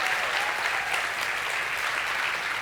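Steady, dense audience applause at a Spanish-language gathering honoring fathers fills the whole stretch at an even, moderate level, with no talk over it.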